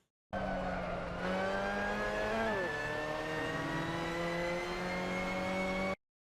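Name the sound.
Mazda MX-5 Cup car accelerating in video game Assetto Corsa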